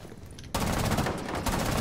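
Gunshots in a video game burst in after a short quiet moment as dense, rapid fire, easing slightly before another loud volley closes it out.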